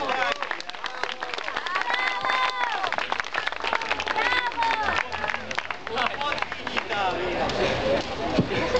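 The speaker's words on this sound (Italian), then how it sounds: "Quindi dai, un applauso" Audience applause and clapping at a lively Italian show, mixed with cheering voices and crowd babble; loud and steady throughout, with people talking and shouting over it.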